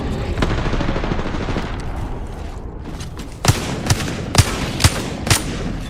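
Gunfire in a first-person shooter video game, a loud continuous rattle followed by five distinct spaced shots, close and punchy, with no speech over it.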